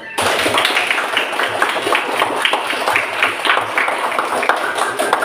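Sixth-grade children in a classroom clapping their hands, a close, lively burst of many small hands with uneven slaps and a few louder claps, sustained for about five seconds with some voices mixed in.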